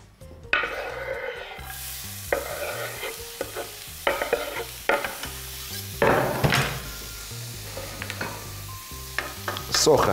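Onion fries in a few drops of vegetable oil, a soft steady sizzle broken by repeated scraping stirs of a utensil against the pan, close and without talk.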